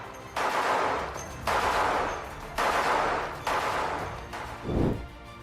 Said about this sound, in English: The M2 is an air-cooled machine gun shooting the heavy 50 caliber round